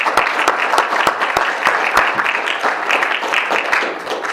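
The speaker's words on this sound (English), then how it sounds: "Let's give both of our speakers another round of applause." Steady, full round of audience applause after speakers at a debate on marijuana legalization, dense clapping with a few sharp individual claps standing out, continuing evenly before tapering slightly at the end.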